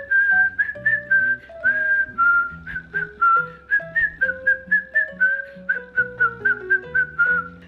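A person whistles a melody alone, a steady run of clear sustained and stepping notes with short breaths between phrases, close and fairly loud with no talk.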